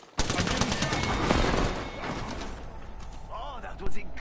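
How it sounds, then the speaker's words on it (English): Enemy gunfire in a PS4 shooter: dense rapid bursts of shots crackling close and loud for a couple of seconds, thinning into scattered reports under other game noise. "The enemies are shooting at me."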